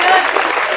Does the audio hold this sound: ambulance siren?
no